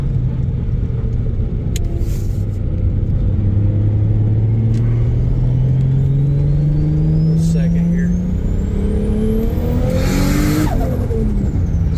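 A Nissan Silvia S13 coupe with an RB25DET turbo engine pulls hard in second gear, its loud, rising engine note climbing steadily over twelve seconds with tire noise near the end, heard from inside the car while someone talks over it.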